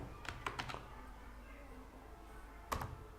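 Typing on a computer keyboard in a quiet room while searching for a Bangladesh government logo: a short burst of quick key taps, a pause with faint background hum, then one more sharp keystroke.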